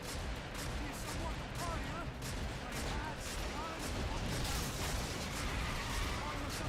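Gunfire from an enemy in a horror video game, a rapid string of repeated shots firing steadily at moderate loudness over the whole stretch, with a voice talking underneath.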